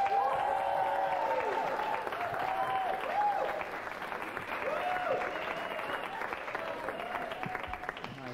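A comedy club audience applauds as stand-up comedian Eddie Izzard is welcomed onto the stage in the early 1990s, steady clapping with some cheers and voices mixed in, sustained across the whole span and gradually thinning.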